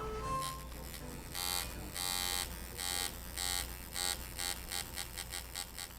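Electric tattoo machine buzzing in bursts as the needle depth is checked, a steady close whine starting and stopping several times in uneven pulses.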